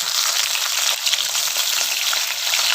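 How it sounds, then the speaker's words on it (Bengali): Two pieces of fish, about 150 grams each, fry in hot oil in a pan, giving a steady, close, dense sizzle that holds evenly throughout with no talking. "2টো মাছ করেই ভাজতে হচ্ছে।"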